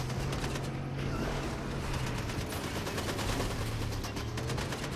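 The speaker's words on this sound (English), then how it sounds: "I heard some gunfire." Rapid bursts of gunfire crackle through a video game, dense overlapping shots and automatic fire forming a continuous rattling wash at moderate volume with no talking.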